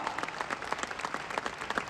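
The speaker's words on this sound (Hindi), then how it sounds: "ऐसे कंपनी के ब्लू डायमंड यमुना मैम के लिए जोरदार तालियां" Applause rises for a Blue Diamond role model named Yamuna at a company speech event: a steady crowd clapping, moderately distant and fairly soft, running throughout without a break.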